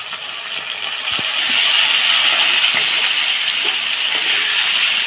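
Masala paste with cashews fries in a pan for Bengali-style shahi paneer, giving a strong, steady hissing sizzle that swells after a second and carries on close by, with no speech.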